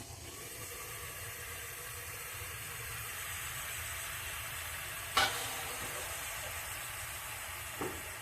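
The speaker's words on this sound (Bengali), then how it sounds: "দেখুন গ্রেভিটা ফুটছে।" Gravy for an eggplant dish bubbles and hisses steadily in an uncovered pan with a soft, constant sizzle, broken once by a sharp clink of a utensil and a fainter tap later.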